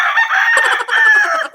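A rooster crows loudly and close by in two drawn-out calls with a short break between them, with no talking.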